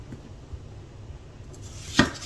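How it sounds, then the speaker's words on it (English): A knife slicing through onion on a board, with a soft early tap and then one sharp, close chop near the end, against a quiet low kitchen hum; no talking. "I'm going to cut a little bit of onion for this as well."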